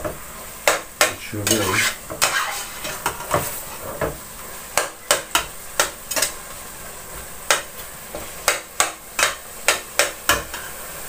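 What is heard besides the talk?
meat roasting in a pan for bolognese sauce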